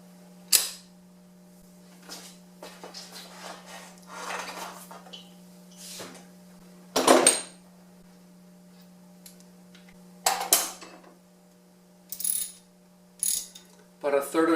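ARP head studs on a 3SGTE engine are loosened with a ratcheting wrench, giving a series of separate clicking, ratchet-like bursts and sharper snaps between quiet pauses, over a faint steady hum.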